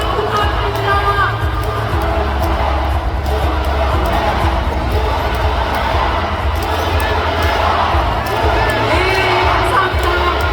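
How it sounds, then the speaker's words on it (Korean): A large convention crowd at a party national convention in an exhibition hall cheers and applauds, forming a loud, continuous wash of shouting and clapping for the whole stretch with no pauses. "다시 한번 뜨거운 함성과 박수 부탁드립니다"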